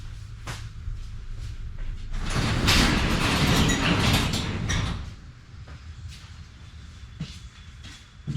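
A garage door rolls open, a broad rumbling slide that builds and holds for a few seconds, then eases into quieter mechanical rattling and clicks nearby, with no talking.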